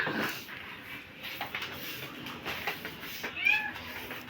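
Newborn pet kittens play nearby, giving faint, high, brief meows among soft shuffling and rustling sounds.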